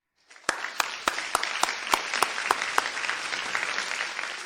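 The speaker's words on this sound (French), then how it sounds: "permettez-nous de les applaudir à nouveau pour cette soirée qui nous a offert une surprise infinie" Banquet audience applauding honoured guests, opening with a few distinct loud claps that swell into steady, dense clapping from a crowd.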